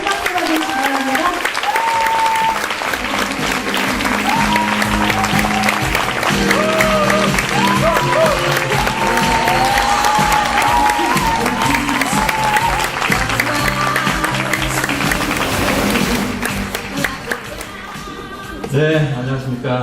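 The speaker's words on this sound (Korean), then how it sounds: "큰 박수 받으시기 바랍니다." Audience applause at a business success-story event in Incheon as presenters are welcomed on stage, with music playing loudly throughout and the clapping steady under it before fading near the end.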